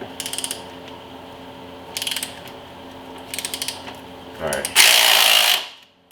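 A ratchet wrench working a seized bolt soaked with penetrant oil on a Chevy Tahoe: short bursts of fast clicking, repeated several times, then a louder harsh grinding rasp that cuts off, close and alone.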